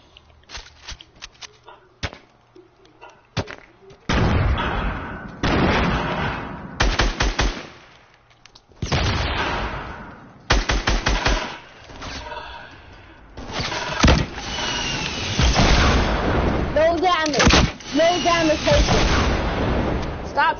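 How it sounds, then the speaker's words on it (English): Bursts of rapid gunfire, likely from a toy or airsoft gun, come in short volleys through the clip, mixed with thumps and excited voices calling out between shots. "Stop shooting me, bro."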